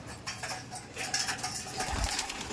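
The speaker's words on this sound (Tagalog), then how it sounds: "Ayan yung mga ibon natin Sobrang dami na, naghalo-halo na" A big flock of pigeons and doves coos and flutters around feed at feeding time, a dense nearby murmur of calls with a faint clink of dishes.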